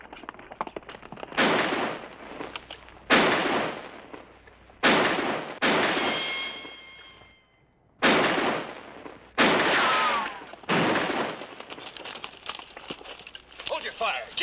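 Gunshots ring out in a western TV episode, several sharp, loud cracks spaced a second or two apart with echoing tails, with people talking in between.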